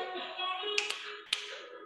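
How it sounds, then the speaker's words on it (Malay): A few sharp finger snaps, about three, crack out crisply over a sung children's tune about being happy, spaced unevenly across a brief moment. "Kalau rasa gembira, petik jari."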